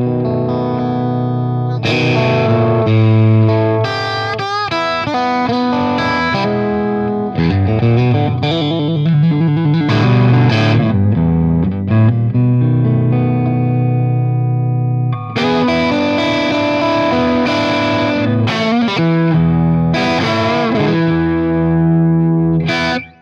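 An electric guitar on a PRS McCarty with hot pickups plays through a PRS 30 amplifier with EL84 tubes, giving loud, sustained, distorted chords and riffs that pause briefly and then resume, with no talk.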